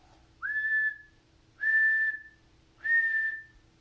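Three long whistle blasts signal the start of a race, each held for about half a second with a clear steady tone and brief gaps between, loud and alone.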